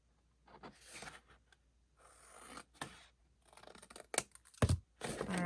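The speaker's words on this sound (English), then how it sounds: "I'm just going to cut up the score line, okay, and then I'm going to cut and tab that outside square" Scissors snip along a score line in craft paper, with bursts of short cutting strokes separated by pauses, close and fairly quiet.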